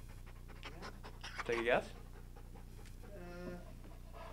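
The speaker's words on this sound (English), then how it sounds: "He's a Dutch Shepherd and a Belgian Malinois." A police dog, a Dutch Shepherd and Belgian Malinois mix, pants softly and rhythmically at close range under a steady low hum, with people talking nearby throughout.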